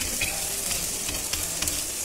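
A flipped wheat parotta fries in oil on a pan, giving a short burst of steady, crackling sizzle with a couple of light taps.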